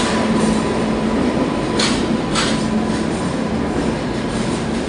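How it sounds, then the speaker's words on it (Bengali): A train rolls steadily into a railway station, its loud, continuous rumble and rattle of wheels close by, with brief squealing bursts rising over the running noise and no voices present. "বম্মার ট্রেনও চলে এসেছে"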